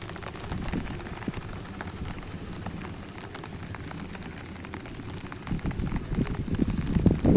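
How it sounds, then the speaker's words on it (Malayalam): Light drizzle over a paddy field patters steadily and closely, a dense soft crackle of drops with a low rumble of wind underneath. "ചെറിയ ചാറ്റൽ മഴയുമുണ്ട്."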